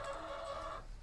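Farm chickens clucking near a freshly filled water trough, a brief faint, tonal cluck over low background rumble, with no talk.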